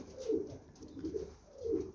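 Domestic pigeons of the hinnani breed coo three times in a steady repeating rhythm. The low, rounded calls are close and clear over a quiet background.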